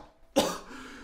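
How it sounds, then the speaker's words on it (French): A single harsh cough bursts out abruptly, close to the microphone, with a brief raspy tail fading afterward; no talking. "j'arrête pas de tousser"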